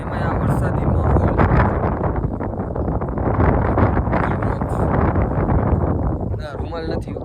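Wind gusts over a riverside on a rainy day, a loud, rough buffeting roar striking the microphone throughout, with a person talking at the end.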